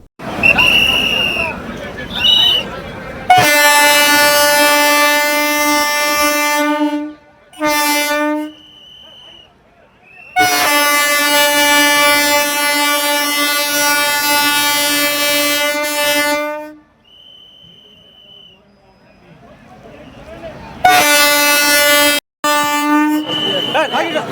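The Visakha Express sounds long, loud, blaring horn blasts at a railway halt, repeated three times with gaps between, over rumbling train noise and a crowd murmuring nearby.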